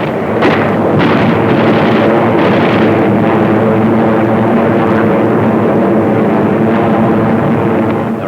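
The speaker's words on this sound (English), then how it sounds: "155mm howitzers based on nearby Bataan lay down a protective barrage of white phosphorus to screen landing operations" A WWII newsreel barrage: 155mm howitzers fire white phosphorus while B-25s and P-51s strafe and bomb an island. The result is a dense, continuous roar of artillery bursts and aircraft, with sharper booms early on, all loud and sustained.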